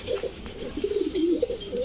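Chocolate racer pigeons coo softly and close by, giving a few low, rolling warbles in quick succession.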